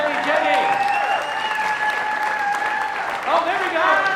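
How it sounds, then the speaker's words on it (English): A live audience applauds at a community dance show, the clapping loud, steady and close for about four seconds, mixed with voices, cheers and a whistle-like tone over the top. "Please give a huge round of applause"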